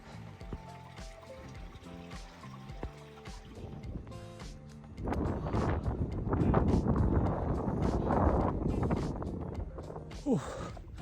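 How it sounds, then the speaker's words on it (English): Wind buffets the microphone on a mountain top in a rough, rumbling roar that swells midway and stays loud, over quieter outdoor sounds. "It's getting a little breezy up here."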